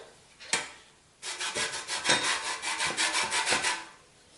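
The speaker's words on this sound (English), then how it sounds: "we're going to grate our zested orange" An orange is rubbed against a grater, giving one sharp knock and then a run of rhythmic rasping strokes, close and fairly loud with no talking.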